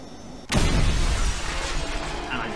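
Aircraft crash in the video game Just Cause 2: a sudden loud impact bursts in after a quiet engine hum, followed by a sustained crunching, rumbling clatter that slowly fades.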